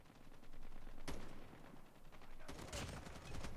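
Gunfire in the mobile shooter game Call of Duty Mobile: steady rapid automatic fire with a couple of sharper louder bursts, close and continuous throughout.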